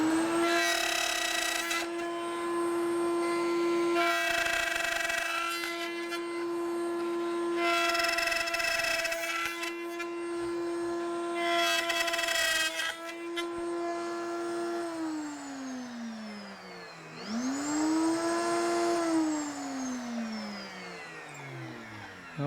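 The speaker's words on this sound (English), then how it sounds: "So we'll change bits and cut the dovetail joints." A router fitted with a dovetail bit cuts dovetail joints in wood, giving a loud, sustained high whine that repeats in four even bursts and then drops and rises again as the cut slows.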